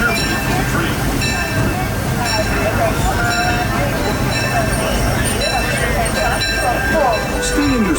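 Disneyland Railroad train rolling into Tomorrowland Station at night, a steady rumble with rail squeals and clatter, with a station announcement and voices talking over it.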